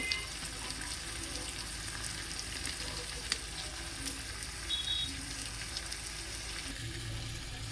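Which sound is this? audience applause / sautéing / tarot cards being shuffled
sautéing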